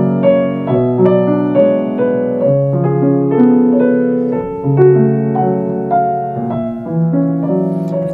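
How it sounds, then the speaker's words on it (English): Solo piano plays Chopin's Nocturne Op. 48 No. 2, with sustained chords and a singing melody line flowing continuously at a steady, moderately loud level, no voices present. "I made a video on the Nocturne by Chopin 48 number 2."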